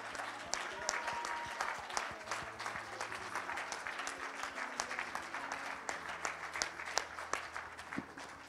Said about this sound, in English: let's continue that hand clap to the Lord